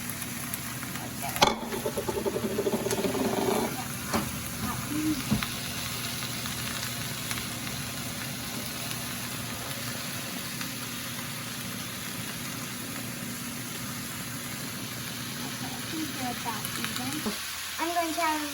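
Apple slices frying in a pan for fried apples and onions give a steady, close sizzle throughout, with a few clatters of the pan and utensils near the start.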